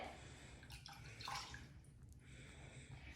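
Liquid poured into a measuring cup while cooking orange chicken, a soft close splashing trickle running steadily for about three seconds with no voices.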